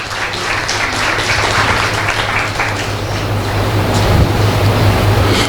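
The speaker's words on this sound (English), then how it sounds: "please give a round of applause" Audience applause at a medical award ceremony held by a pathology and anesthesia department, a steady dense wash of clapping with a low steady hum running underneath throughout.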